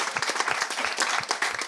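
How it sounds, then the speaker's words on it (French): A studio audience at a French sports talk show applauds its guests, a dense, steady wash of many hands clapping throughout with individual claps popping out. "Je vais vous demander d'applaudir"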